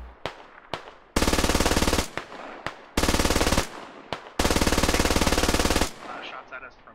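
Automatic rifle fire in a military shooter game: loud, close sustained bursts of rapid shots alternate with single sharp cracks, and distant gunfire trails off at the end.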